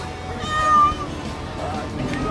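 A single short cat meow rises and falls in the middle, close and clear over a quiet room background.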